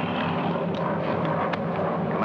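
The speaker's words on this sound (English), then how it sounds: "Three enemy planes approaching from the east." Enemy aircraft engines in a 1943 wartime scene, a loud continuous droning roar of approaching planes sustained throughout with no speech.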